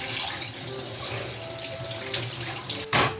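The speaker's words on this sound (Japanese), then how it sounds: "まずブロッコリー、これは丸々1個使うということなんで、しっかり洗いましょうかね" Tap water runs steadily into a sink as a whole head of broccoli is rinsed beneath it, a continuous close splashing stream that swells into a louder gush at the end.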